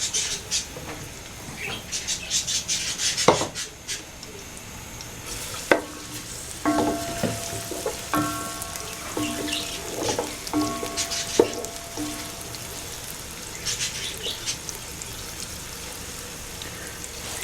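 Chopped onions frying in oil in a pot for mutton yakhni pulao, a steady close sizzle with crackling pops and occasional scraping stirs throughout.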